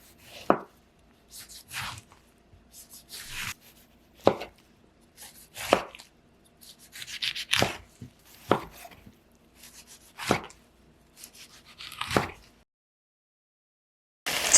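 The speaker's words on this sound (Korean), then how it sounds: "토마토는 작은 네모 모양으로 썰어줄게요." A knife dices tomatoes into small cubes on a cutting board, giving sharp, close chops in an uneven rhythm, roughly a dozen strikes with soft scraping between them, and no talking.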